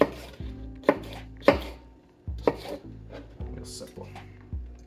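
A knife chops small bell peppers on a cutting board for ceviche, producing crisp, irregular close thuds and taps in a loose rhythm, with quiet knocking between strokes.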